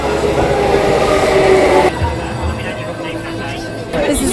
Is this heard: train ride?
yes